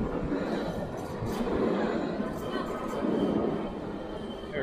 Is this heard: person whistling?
no